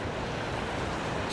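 Sea waves wash in at Spanish Point, Ireland, as a steady, close broadband rush of surf that stays at an even level throughout, with some wind buffeting the microphone.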